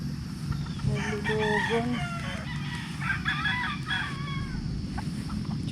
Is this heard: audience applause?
no